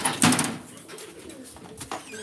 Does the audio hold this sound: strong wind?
no